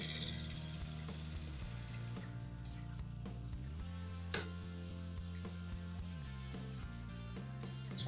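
A sewing machine runs steadily while stitching a welt pocket, a low mechanical hum and ticking that speeds and slows across the stretch, with a couple of sharp clicks, close and fairly quiet, no speech.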